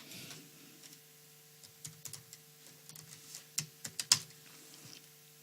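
Typing on a computer keyboard into a search field, a sparse run of quiet key clicks that grows a little louder and quicker toward the end over a faint steady hum, with no talking.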